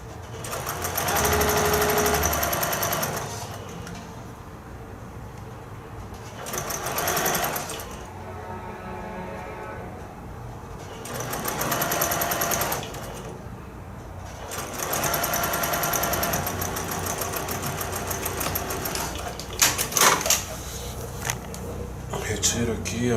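Domestic sewing machine stitching a quarter-inch seam, bursts of fast steady whirring start and stop several times with pauses between, close and loud, while someone talks throughout.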